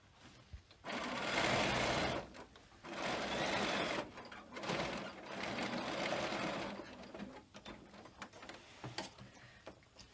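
A sewing machine top-stitches the edges of a frame bag in three steady bursts of rapid stitching, each lasting a second or two with short pauses between, then falls to quieter handling noises.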